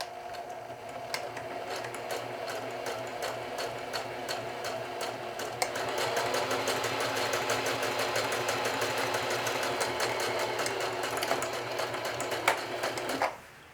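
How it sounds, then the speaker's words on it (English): A sewing machine stitches a watch pocket onto denim at close range, its rapid mechanical stitching rhythm continuing and speeding up before stopping abruptly at the end. "I can stitch the last row to finish up."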